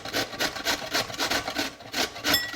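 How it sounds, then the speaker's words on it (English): Raw beets rubbed against a grater in quick rhythmic strokes, each pass a raspy scraping burst, about a dozen in a steady back-and-forth pattern, close and moderately quiet. "while I was grating these beets here"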